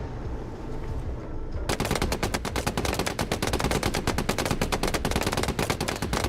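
Heavy machine gun fire from an armored vehicle in the tank game GHPC Gunner Heat PC: sustained rapid bursts of loud, close, rattling shots that start abruptly and continue without pause, with no talk.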